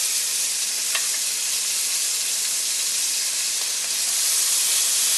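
Loud, continuous sizzling of beef frying in very hot oil in a wok, a dense steady hiss with a few brief crackles and no talking.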